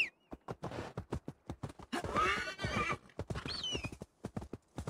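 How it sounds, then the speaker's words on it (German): Rhythmic clip-clop of hooves from a ridden horse in Assassin's Creed Valhalla, close and steady, with a loud neigh breaking in midway; no speech. "Dann würde ich sagen, reiten wir zu unserem Aussichtspunkt."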